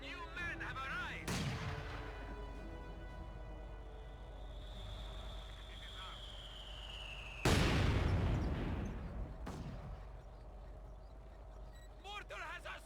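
Mortar and artillery fire in the strategy game Company of Heroes 2: heavy, loud booms at irregular intervals over a low battlefield rumble, with a shell whistling down before one blast, under game voices.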